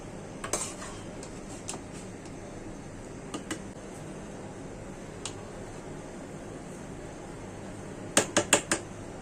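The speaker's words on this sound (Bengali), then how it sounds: "আমার পোলাওটি রান্না হয়ে গেছে, এখন আমি মাংস মিলিয়ে নিব।" Meat is mixed into cooked pilau in a metal pot, with sparse clinks and scrapes of a spoon against the pot over a low background hiss, ending in a quick cluster of louder metallic taps.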